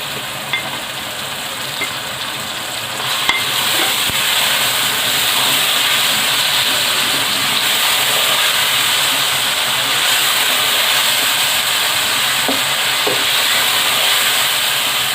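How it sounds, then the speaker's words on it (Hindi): Minced meat for keema aloo sizzles in a hot pan, a steady broadband frying hiss that swells louder after a few seconds and holds evenly to the end, with no talk. "कीमे को भून लेंगे।"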